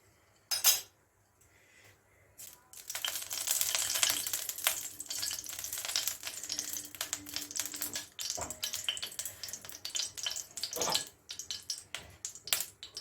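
Carrot fries in ghee with a steady sizzle and rapid scraping and clinking of a utensil stirring in a wok, close by, with no voices.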